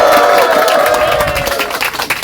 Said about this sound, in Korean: 좀 약한 것 같은데 다시 한번 함성 부탁드립니다